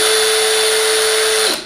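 A Porter Cable PCCK618L2 cordless drill/driver whirs at a steady, high-pitched motor tone, held close and loud for over a second before spinning down and cutting off.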